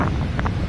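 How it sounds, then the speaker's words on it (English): Wind gusting steadily across a beach by warm, shallow water, a constant loud buffeting rumble on the microphone with no talk. "And it's so windy, sorry."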